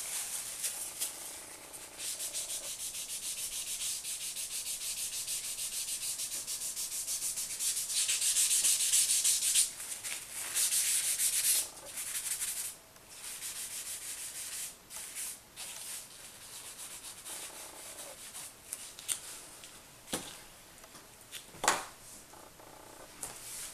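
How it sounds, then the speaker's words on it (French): Soft cloth rubbing delicately over a graphite pencil portrait on paper, a steady close, quiet scuffing with brief pauses and a few sharper strokes near the end, no talking. "je fais un petit travail de frotter délicatement avec le chiffon"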